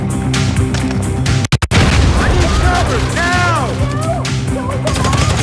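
A grenade blast in the GTA V video game on PC, a loud sharp boom punching through busy game audio with music, chirping whistles and ambient noise continuing around it.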